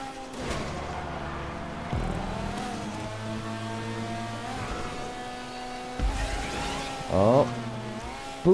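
A race car engine in a racing video game revving and climbing through gears, rising whines broken by shift drops, close and loud, with a brief squeal-like burst near the end and no voices over it.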